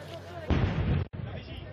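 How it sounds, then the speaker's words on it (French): A sudden heavy blast booms out over a noisy, talk-filled background, lasting about half a second before cutting off abruptly, at the site of a hostage siege during a police assault in France. "Une explosion retentit sur le lieu d'une autre prise d'otage."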